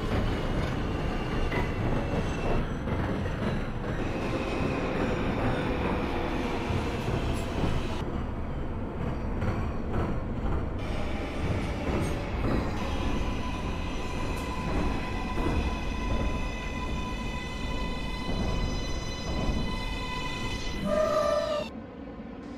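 A simulated Kawasaki R143 subway train on the BMT M line in OpenBVE rolls along the track with a continuous rumble, rhythmic wheel clatter and rising electric motor whine, then a brief high squeal near the end.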